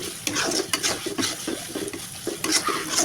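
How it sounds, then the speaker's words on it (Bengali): Onions frying in oil and browning for a chicken curry, with a steady close sizzle broken by repeated stirring scrapes of a utensil against the pan. "তেল দিয়ে পেঁয়াজটা আমি হালকা বাদামি কালো করে দেবো"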